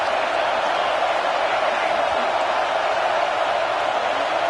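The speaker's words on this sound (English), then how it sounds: "Third down, and the crowd really getting into it." Football stadium crowd roaring on a third-down play, a dense, loud, continuous wash of cheering that stays level for a few seconds.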